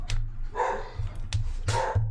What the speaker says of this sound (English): There's dogs outside.